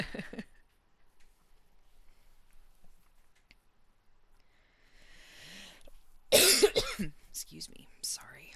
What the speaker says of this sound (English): I am so sick of coughing.